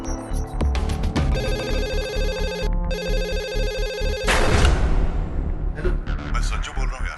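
A telephone rings on Sanjay Dutt's call to his friend, repeated electronic ringing bursts over a dense dramatic music bed, cutting off before a loud thud and continuing background sound.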